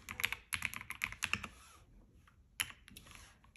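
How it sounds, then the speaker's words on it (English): Quick bursts of clacky keystrokes on a mechanical keyboard at a home desk, close and crisp, coming in fast clusters with a short pause, then a final couple of taps. "mechanical keyboard because I just absolutely love it"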